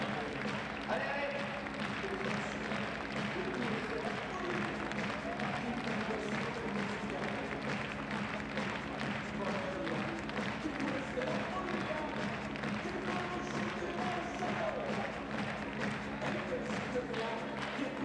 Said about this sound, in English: on les peut les applaudir encore très très fort.